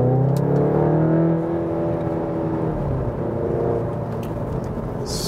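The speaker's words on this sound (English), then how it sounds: "Let's see what we can do also with accelerating out the corners." Seat Leon Cupra 300 hp AWD with DSG, ST estate facelift, accelerating hard out of corners in Cupra sport mode: a loud, sustained engine drone with rising harmonics, easing slightly toward the end, heard from inside the car.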